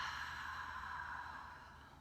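A slow, soft exhale out through the mouth during a guided breathing exercise, a breathy rush that fades gradually over two seconds, quiet and close.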